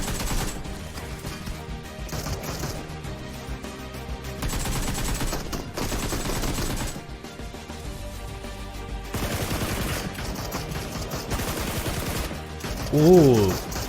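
Bursts of video game gunfire, rapid volleys and repeated shots, keep coming across the stretch under a game soundtrack, with a brief louder burst near the end.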